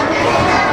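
A crowd of children cheers and shouts together at a National Day closing storytelling performance, a loud, dense, continuous roar filling the short moment.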